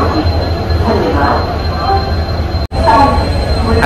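The Saraighat Express rolls into Guwahati Junction, its wheels squealing and rumbling steadily up close, with a brief dropout before the train noise resumes and faint talk underneath.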